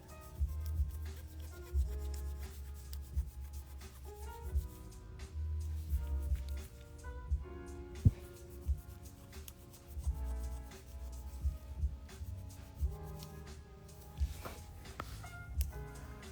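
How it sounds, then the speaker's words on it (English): Soft, steady rubbing and light scuffing as a gloved finger polishes nail art on a short nail, close and quiet, with a continuous rhythmic friction and occasional small ticks. "it's getting slightly difficult to rub it, but you keep rubbing it"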